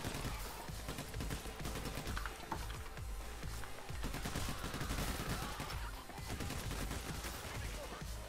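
Assault rifle fire in the heist shooter Payday: The Heist, a continuous dense fusillade of rapid shots under busy game noise for the whole stretch, with faint voices mixed in.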